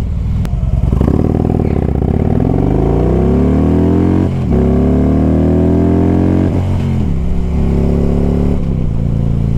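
Motorcycle accelerating hard in a 0 to 60 run, loud close engine roar with rising revs, brief drops at two or three gear shifts, then climbing again.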